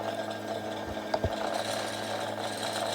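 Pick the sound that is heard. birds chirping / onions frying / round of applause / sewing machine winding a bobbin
sewing machine winding a bobbin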